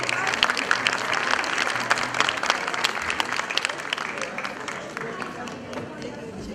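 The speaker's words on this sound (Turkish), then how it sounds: "alkışlarla sahneye alacağız" Applause from a crowd at a university conservatory graduation ceremony, with dense, loud clapping that tapers gradually as voices murmur beneath it.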